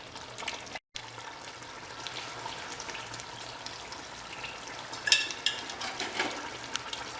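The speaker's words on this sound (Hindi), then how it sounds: "अब इसे हम तेज थोड़ा खुला करके बढ़िया मसाले को भून लेंगे" Spice masala roasting in ghee in a pan for a spicy mutton curry with garlic, a soft continuous sizzle and frying hiss with brief stirring scrapes and a few sharper spatters near the end.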